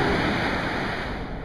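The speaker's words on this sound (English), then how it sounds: "Some big ass waves." Big ocean waves breaking on a beach, a continuous loud roar of surf with heavy wind noise on the microphone, steady with no break.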